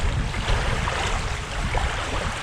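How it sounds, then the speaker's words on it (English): Gusty wind blows outdoors during pike fishing in Scotland, a loud, continuous rush and buffeting on the microphone with no talk. "the wind's got very gusty, which is just making it a little bit uncomfortable now"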